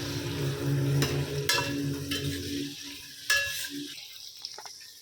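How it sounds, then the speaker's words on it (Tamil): Onions and tomatoes sauté in a pan for button mushroom biryani, a steady close sizzle with scraping stirs and a few sharp utensil clicks, easing off toward the end. "மூணு தக்காளி இதோடு சேர்த்தியாச்சு இப்போது நல்லா வதக்கிக்கலாம்"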